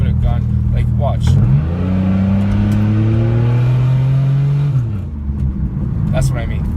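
Pontiac GTP engine revving hard under acceleration on a city street, loud and close, rising then holding a strained roar before easing off, with someone talking over it.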